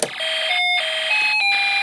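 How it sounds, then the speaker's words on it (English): A Snap Circuits music IC and alarm IC play together through a small speaker, a loud, steady electronic tone that steps between pitches with a buzzing alarm-like edge, heard alone for under two seconds. "we get the music IC playing, but the alarm IC is also playing, and we're hearing that through our speaker"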